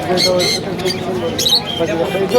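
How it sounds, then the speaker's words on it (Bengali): Japanese budgerigars at a bird market in Mirpur, Dhaka, give sharp chirping squawks in quick bursts, close by and mixed with talking voices and market chatter. "তারপরে যে জাপানি বাজিগার আছে দেখেন একজোড়া বাজিগারটা"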